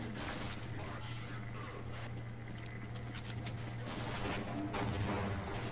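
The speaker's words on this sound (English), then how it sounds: "Where are those shots coming from?" Bursts of gunfire in the video game Half-Life, several sharp cracking shots in uneven clusters over a steady mechanical hum, moderately loud with no talk.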